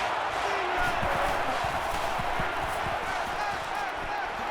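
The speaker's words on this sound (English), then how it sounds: "It's arguably the loudest crowd in the nation, and they are turning it up a notch." Dense stadium crowd roar from a college football game between Wisconsin and Alabama, a loud, steady wash of noise with scattered shouts and thuds, under commentary.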